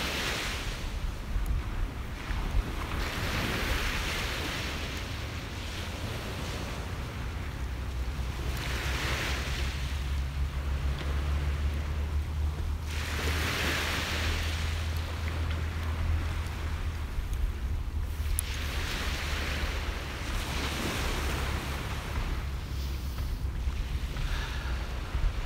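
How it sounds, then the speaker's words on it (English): Ocean waves break and wash onto a beach in slow recurring surges, with steady wind rumble buffeting the microphone underneath and no voices. "pay attention to the sound of the waves"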